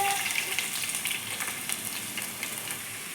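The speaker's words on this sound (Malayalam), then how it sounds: "നമുക്ക് നെയ്യൊക്കെ ചൂടായി, വെളിച്ചെണ്ണയൊക്കെ ചൂടായിട്ടുണ്ട്. ഇനി നമുക്കിതിലേക്ക് സവാള ഇട്ടെടുക്കാം." Sliced onions hitting hot ghee and coconut oil give a dense, continuous crackling sizzle with fine popping spatter, fairly close and steady throughout.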